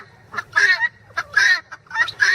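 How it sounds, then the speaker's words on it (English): Guinea fowl calling nearby outdoors, a series of harsh, rapid, squawking cries repeated in quick bursts, loud and close over a low background hum. "The guineas"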